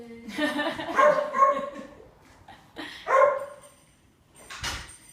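An old dog, about 14, barks a few times with sharp yips and whimpering tones, separated by pauses, fairly close, while a person speaks nearby.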